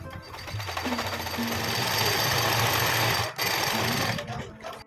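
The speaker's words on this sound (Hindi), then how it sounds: "बस अब इन निशानों के ऊपर सीधी सीधी सिलाइयाँ लगा देनी हैं" A sewing machine runs steadily, stitching straight seams across marked lines on old cloth, with a continuous mechanical whir and brief dips as the fabric is guided; no one speaks.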